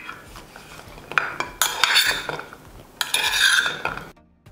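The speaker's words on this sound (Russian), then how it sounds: "Теперь все это перемешиваем." A spoon scrapes and clinks against a bowl while a seasoned tomato mixture with pepper and salt is stirred, giving irregular close scraping bursts that end in sudden silence.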